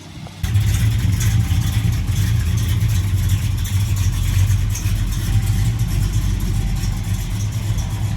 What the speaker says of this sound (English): I got distracted by a muscle car